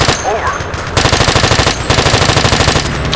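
Rapid automatic gunfire in the video game Battlefield 3, a loud sustained burst of evenly spaced shots with a brief pause before it resumes, set against steady battle noise.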